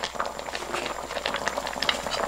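Steamed pork spine stew with potatoes, carrots, onion and white scallion pieces bubbles at a steady, vigorous boil, a dense close-up burble of popping liquid that continues throughout.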